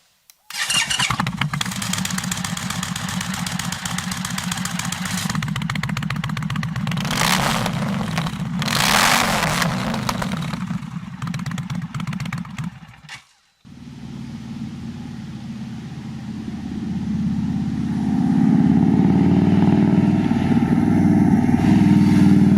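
An Indian Sport Chief motorcycle engine runs loud and close, revving up and down in repeated surges, then cuts out briefly before settling into a heavy, rising roar.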